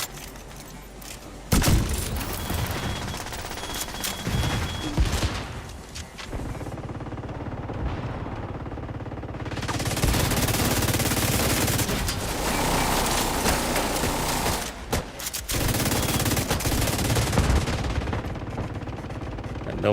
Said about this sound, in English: I felt like I was getting shot point blank